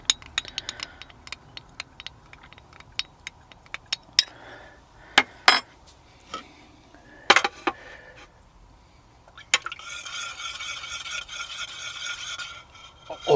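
Roux stirred into a marinade for Thai moo ping pork skewers in a bowl, with scattered scraping and clinking of a utensil against the bowl and then a sustained rasping stir near the end.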